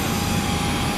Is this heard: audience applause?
no